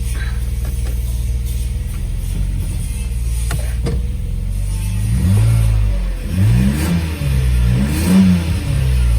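A Mercedes-Benz W201 190 fitted with an M104 engine runs under its own power after an engine conversion, its loud engine close by and rising and falling as it revs and pulls away.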